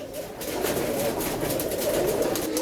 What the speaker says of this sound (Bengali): এটা খুলনার কবুতর এটা আপনার গলা লাল কবুতর